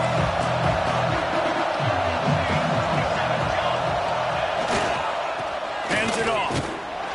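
A stadium crowd roaring in the College Football 26 video game, a dense continuous crowd noise with some whoops, loud and sustained, mixed with game commentary.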